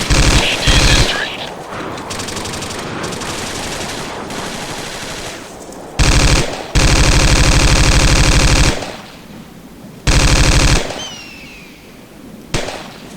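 Gunfire in the tactical shooter Ghost Recon Wildlands: long loud bursts of automatic fire alternate with pauses, and a final shot rings out.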